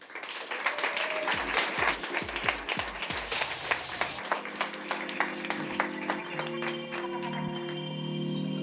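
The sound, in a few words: audience applause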